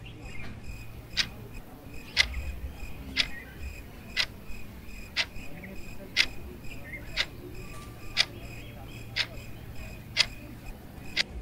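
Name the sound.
clock ticking slowly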